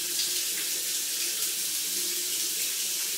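Steady hiss of water streaming from a light-up disco shower head, a continuous close spray with no voices over it.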